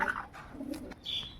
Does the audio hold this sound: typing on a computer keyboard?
no